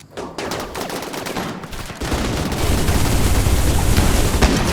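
Weapon fire in the RimWorld colony game, a dense continuous crackle of shots that grows heavier and louder halfway through and keeps rattling to the end.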